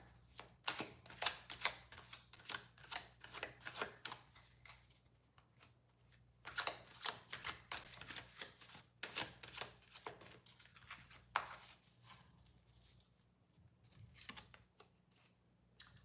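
Repeated riffle shuffles of a deck of cards, bursts of rapid crisp flicking with short pauses between them, close and fairly quiet.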